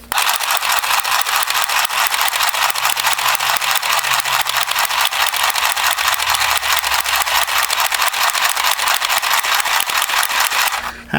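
An Oxgord handheld sewing machine stitching fabric, making a loud, close, continuous rapid mechanical rattle that runs steadily for several seconds before cutting off, with no talking.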